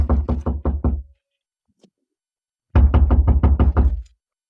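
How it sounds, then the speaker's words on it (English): Knocking on a hotel room door on a 14th floor in an old radio drama: a firm run of six raps, a pause of about a second and a half, then a second longer series of about eight knocks, close and alone. "Ah, go on, knock."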